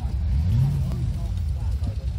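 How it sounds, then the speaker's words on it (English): A car engine revs at the 2022 Basingstoke Festival of Transport, a low steady rumble that swells briefly and settles, close by, amid outdoor crowd noise and faint voices. "Just the engines revving"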